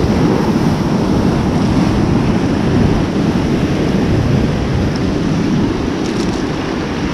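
Sea waves break on a rocky shore during spinning fishing, a loud, continuous wash of surf with heavy wind buffeting the microphone and no pause between surges.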